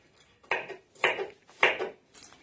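A knife cutting a tomato on a board, three distinct firm chops at an even pace with faint lighter taps between them, close and without voices.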